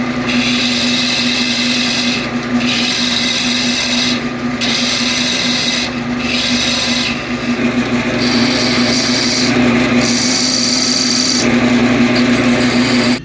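A hand tool scrapes steadily against wood spinning on a lathe, taking a mandrel down little by little for paper cartridges. The grinding rasp is loud and continuous, with brief shifts in tone, and no one speaks.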